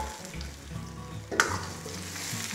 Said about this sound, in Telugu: ఇదిగోండి ఆనియన్స్ అనేది మనకి ఈ విధంగా ఫ్రై అయిన తర్వాత దీంట్లోని టమాటా అదేవిధంగా పచ్చిమిరపకాయలని కూడా వేసేసుకోవాలి.